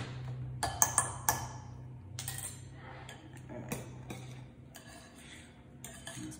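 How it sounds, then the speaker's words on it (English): A fork scrapes and clinks against a bowl while mixing oatmeal cookie dough, with a few sharp metallic taps early on followed by softer, irregular stirring scrapes, close and fairly quiet. "I'm just gonna mix this with my fork and then add the oats."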